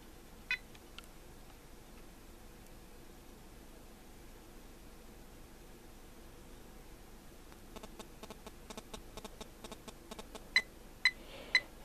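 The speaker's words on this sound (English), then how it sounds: "I'm going to turn it on now." An Ericsson GH198 cell phone switching on gives a few faint beeps, then a run of quick soft clicks and several louder beeps close by over background hiss.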